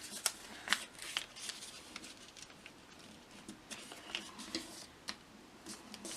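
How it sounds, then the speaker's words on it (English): Paper being folded into an origami gorilla, soft crinkles and sharp creasing taps at close range, quiet and intermittent with no talking. "now we're going to fold our model in half, just like this"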